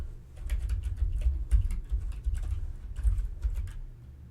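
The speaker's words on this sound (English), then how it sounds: "let's go ahead and type in a new password" Keys clacking on a computer keyboard as a new numeric password is entered, a quick irregular run of close, crisp taps over a low background hum.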